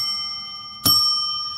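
A single bell strike rings out with a sharp attack and a long, pure, sustained ring that slowly fades, following a steady resonant tone already sounding, clean and alone.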